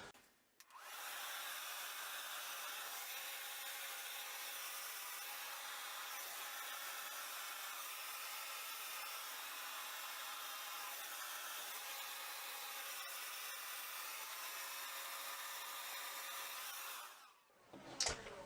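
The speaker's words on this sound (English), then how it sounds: "You're going to take your hair dryer and then you're going to just dry it going up." A hair dryer blows steadily and fairly close for about seventeen seconds while drying hair after dry shampoo, a continuous broadband whoosh that cuts off near the end.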